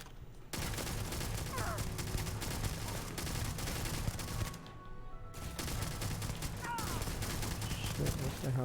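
Companion's gunfire in the Starfield video game, sustained bursts of shots under a steady music bed, stopping briefly near the middle before resuming.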